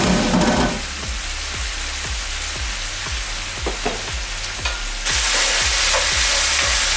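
Roasted tomatoes and garlic stirred around a hot pan for rigatoni, a utensil scraping in steady rhythmic strokes over a constant loud sizzle, with no voices.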